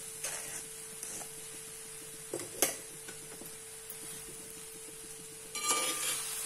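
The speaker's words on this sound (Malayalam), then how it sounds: "ഇനി നമുക്ക് ഇതിന് ചോറിടാം" Cooked rice goes into a pan for nellikka (gooseberry) rice, with quiet, soft scrapes and a few sharp spoon clinks against the metal over a faint steady hum.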